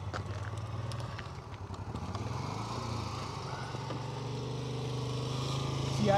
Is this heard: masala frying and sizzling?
no